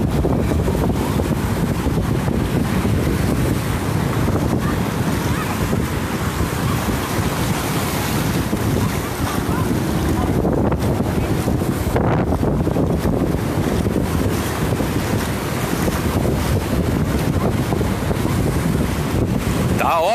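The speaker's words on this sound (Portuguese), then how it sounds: "O vento é característico do cassino, não adianta, né?" Strong, steady wind buffets the microphone on Cassino beach in summer, a continuous roaring rush with surf behind it, loud throughout, with brief voices in the background.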